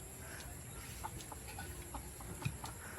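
Scattered soft clucks from chickens, with chicks nearby, several short calls spread through the clip over a steady background hiss, fairly faint and close.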